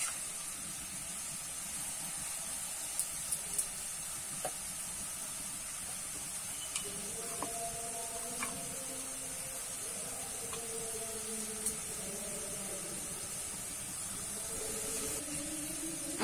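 Shredded potatoes deep frying in hot oil over a high flame, a steady, even hiss and sizzle with faint occasional crackles, with no talk.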